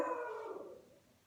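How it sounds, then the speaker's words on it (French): Pet dog Marcel lets out a single drawn-out howl that starts strong and slowly slides downward in pitch while fading, heard close and alone. "Ça, c'est mon chien Marcel."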